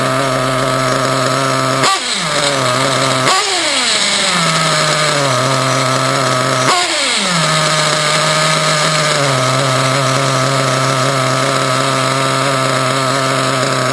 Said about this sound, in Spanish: cuando doy golpe de gas y suelto, prácticamente se me equilibra el motor y se me mantiene a nivel de ralentí